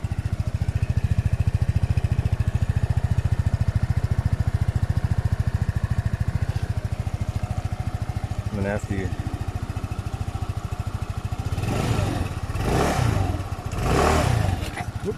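An SYM Orbit 2 automatic scooter engine idles steadily and close with a buzzing, rattly drone, swelling briefly as the throttle is blipped, while someone talks over it.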